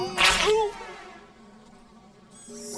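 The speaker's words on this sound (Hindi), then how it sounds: "मक्खियों को कचरा क्यों पसंद है?" A housefly buzzes around a garbage truck in one loud, close burst that quickly fades into a thin, lingering hum.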